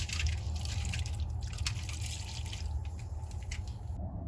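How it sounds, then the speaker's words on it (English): Beer poured into a sheet pan tray set beneath the grill grate of a Rec Teq 700 grill, ahead of smoking a brisket: a steady, close splashing and trickling of liquid that runs unbroken throughout, with no talking. "we're gonna pour a couple beers right in the tray."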